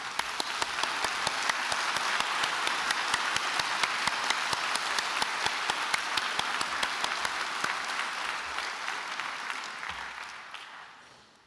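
A graduation audience breaks into sustained applause, a dense wash of many hands clapping steadily in a large hall, holding loud for several seconds before tapering off.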